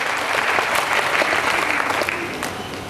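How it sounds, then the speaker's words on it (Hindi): An audience claps loudly at an indoor business seminar, dense sustained applause that stays steady and then fades slightly toward the end. "और मैं माइक्रोफोन उन्हीं को दे रहा हूं, आपकी जोरदार तालियों के बीच।"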